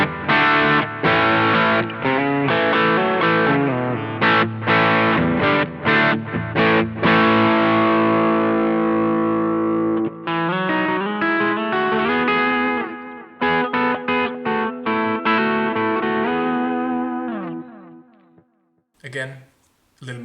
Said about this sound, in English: So let's take a look at that with the overdrive and the delay.